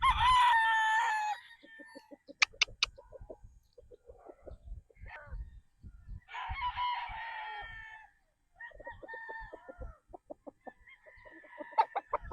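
A Sweater Boston gamecock rooster crows several times, loud and near, mixed with clucks and other fowl calls across a farm yard, no speech.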